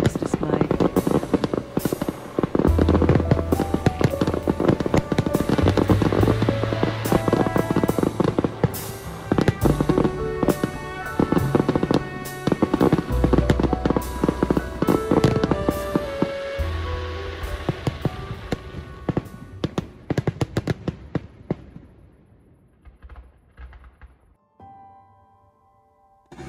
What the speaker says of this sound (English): in the evening the campsite put on a fireworks display.